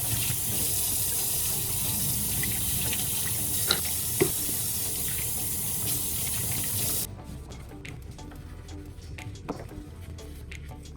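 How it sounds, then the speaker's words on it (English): A kitchen tap runs hard as a pet's food and water dishes are rinsed beneath it, a loud steady gush with a few clinks of the dishes before the flow cuts off and quieter clattering follows. "I'm gonna take his food dish and water dish and rinse it out"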